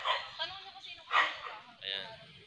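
A dog gives three short yipping barks nearby, each a quick high burst with a whimpering edge, spaced about a second apart.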